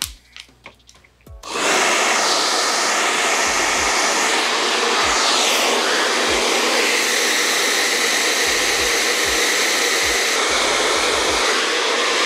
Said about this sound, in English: So I'm just gonna dry my hair all over.